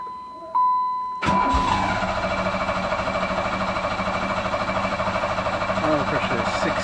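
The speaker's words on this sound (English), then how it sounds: "engine tried to start on a bit of fumes" Turbocharged 400 hp Pontiac Fiero engine cranking and catching on fumes, a sudden loud start after a quiet beep, then a rough, pulsing idle that runs steadily close by.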